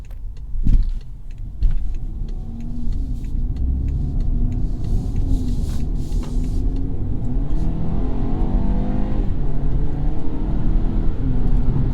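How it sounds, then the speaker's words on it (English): A 2020 BMW 228i Gran Coupe with an 8-speed automatic accelerating, its engine rising through gears in a loud, close cabin drone with swelling pitch sweeps after a couple of sharp clicks at the start. "a quick little acceleration run there"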